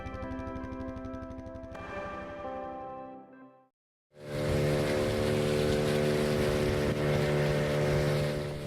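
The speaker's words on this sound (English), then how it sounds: "I'm taking this very small boat to that very large boat behind me" A very small boat in Panama motors out toward a much larger vessel. A steady engine drone winds down and briefly goes quiet, then a louder, rougher motor roar with splashing water starts up and holds strong.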